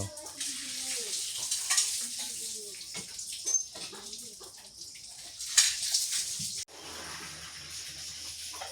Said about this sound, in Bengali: সকালবেলা শুকনো ডিম ভাজছে